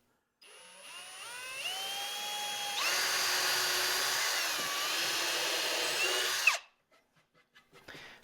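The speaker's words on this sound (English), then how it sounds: "See how that drill bit's not going down all the way? I'm hitting the metal." A power drill bores holes into a footstool top, its whine rising in pitch as the bit spins up, then roaring steadily for several seconds as the bit hits metal before it cuts off abruptly. Faint knocks follow.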